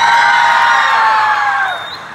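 An audience at an expo stage presentation cheers loudly with high whoops and shouts in one sustained burst that gradually fades.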